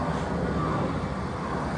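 A steady, broad low rumble of a distant airplane passing overhead, constant and fairly loud, with no other distinct sounds.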